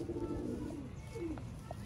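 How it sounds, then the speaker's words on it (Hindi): A purebred Ferozpuri pigeon coos in low, soft repeated notes alongside its shy female, set against steady background noise. "प्योर फिरोजपुरी कबूतर है और साथ में शर्मीली मादी है"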